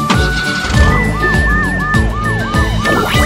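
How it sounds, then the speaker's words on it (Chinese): A cartoon police car's siren wails in steady rising and falling sweeps over bright background music, loud and close, with no talking. "超雷达警车"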